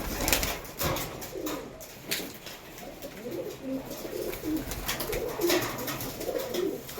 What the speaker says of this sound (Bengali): সব আমার বাচ্চা পায়রাগুলো এবার একে একে ঘরে ঢুকবে সব ঢুকছে